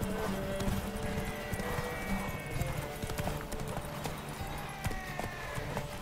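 Horse hooves clip-clopping at a steady galloping rhythm in The Witcher 3 video game, continuous and fairly close, with faint game ambience behind it.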